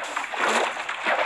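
Splashing and sloshing river water in the video game Minecraft, a short, fairly loud burst of game water sounds with a couple of swells.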